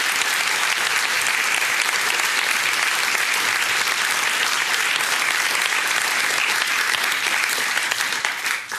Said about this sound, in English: Give a big clap to this wonderful panel.